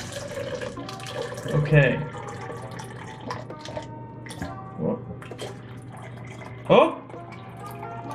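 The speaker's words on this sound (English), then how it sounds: "I think it's getting water everywhere" Water dripping and splashing from a homemade cooling pillow indoors, a few wet trickles and splashes standing out over a steady low hum, while a person speaks and exclaims in surprise.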